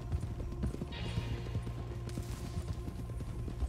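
Horse hooves clip-clopping in Red Dead Redemption 2 as riders approach a horse trader's yard, a steady, moderately close patter of hoof knocks over a low ambient hum, with no voices.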